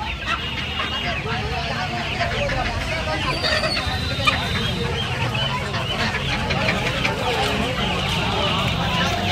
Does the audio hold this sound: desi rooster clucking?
yes